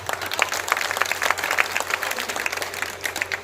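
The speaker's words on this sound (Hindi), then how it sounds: "अगर ताली बजा दोगे तो सब याद आ जाएगा" An audience breaks into applause after a Hindi speaker on stage prompts it, a steady patter of many hands clapping at moderate distance for the whole stretch.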